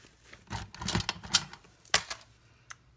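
Paper is trimmed from the white edge of a handmade Halloween card base, a short run of sharp, crisp snips and clicks up close, irregularly spaced, with quiet gaps between them and no talking.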